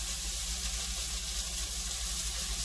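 Heavy cream poured into a hot skillet with chicken cordon bleu and cheese: a steady, moderately loud sizzling hiss with a liquid wash, continuous and close, with no voices.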